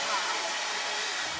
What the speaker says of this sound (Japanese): 車でドライヤーできるって